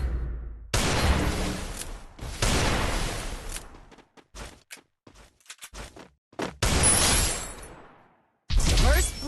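Gunfire from the Woodpecker rifle in the mobile shooter Free Fire, with loud sustained bursts of shots broken by short, sharp single cracks and brief silences between volleys.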